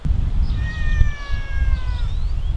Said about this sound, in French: Oh, il y a un chat.